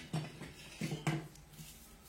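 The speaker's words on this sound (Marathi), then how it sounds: "तर मी आता कांदा ते कापून घेते।" Knife chopping onion on a board for a Maharashtrian harbhara usal curry: a few separate, fairly soft cutting knocks with pauses between them, close by with no talking.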